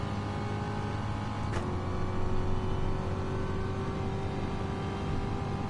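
A Gr.3 Corvette race car in GT Sport laps the Nordschleife. Its engine drones steadily at high revs with one brief click partway through, and no one speaks over it.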